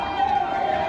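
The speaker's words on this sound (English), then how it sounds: "listen to the crowd respond to this" Crowd at a live Prairie Pro Wrestling show cheering as Uncle Fil mounts a comeback, a brief swell of distant massed voices and cheers with a steady tonal hum running underneath.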